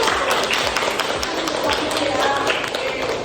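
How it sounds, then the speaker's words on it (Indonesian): Dense, sustained applause from a lecture audience, steady clapping filling the whole stretch without pause. "Oke, beri tepuk tangan dulu."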